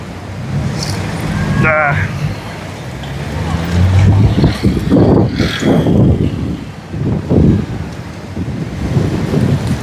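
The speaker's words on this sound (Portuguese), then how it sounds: "Lá vem o vento, cara." Strong wind gusts buffet the microphone on a sandy beach path on the way to a fort, roaring steadily with surging peaks, while someone speaks over it.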